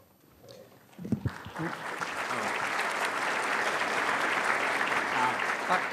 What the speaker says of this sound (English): I presume that applause was for me, not the mayor.